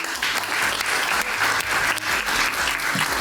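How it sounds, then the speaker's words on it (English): An audience at a business event gives a dense, loud round of clapping that stays even and sustained throughout, with no voices above it. "Please give him a round of applause."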